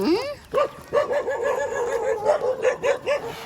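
Several dogs bark and yip repeatedly in short uneven bursts, fairly close, with some whimpering pitch to the calls.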